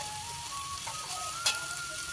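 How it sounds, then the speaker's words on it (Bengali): Spices sizzling in a pan together with meat, onion, garlic and tomato, a steady soft frying hiss with faint stirring and one brief clatter partway through, no talking. "এখন মশলাটাকে একটু ভালো করে ভেজে মাংস পেঁয়াজ রসুন টমেটো সব একসাথে দিয়ে কিন্তু একটু নাড়াচাড়ি করে"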